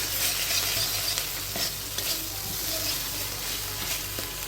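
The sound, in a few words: stirring spice paste frying in oil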